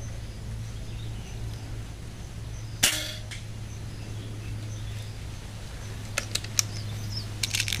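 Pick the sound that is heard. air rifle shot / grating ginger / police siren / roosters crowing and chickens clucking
air rifle shot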